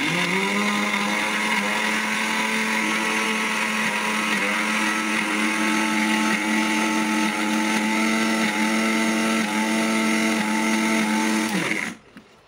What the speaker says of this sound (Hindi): दोबारा ग्राइंड करेंगे इसे।